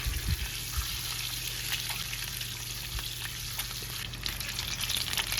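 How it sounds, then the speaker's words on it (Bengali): Spice-coated eggs, rubbed with salt, turmeric and Kashmiri chili powder, frying in hot oil in a kadai, giving a steady close crackling sizzle with occasional sharper pops. "এইভাবে একটু লাল করে ডিমগুলোকে ভেজে নিতে হবে।"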